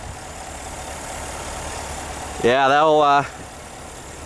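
A 2021 Chevrolet Silverado 1500 High Country's 6.2L V8 idles with a steady, low, even rumble, and a voice briefly speaks over it.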